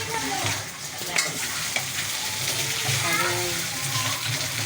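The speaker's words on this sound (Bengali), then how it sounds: "দাও নাড়া দাও।" Food frying in a pan is stirred, with sizzling and scraping strokes against the pan, while people talk nearby.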